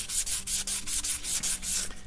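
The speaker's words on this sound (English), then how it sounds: "This is 400 wet dry sandpaper, and this actually works really well." Oiled 400 grit wet-dry sandpaper rubs back and forth on a John Deere 329D boom hydraulic cylinder, a close, steady rhythmic scraping of about eight strokes with brief pauses between, no talking.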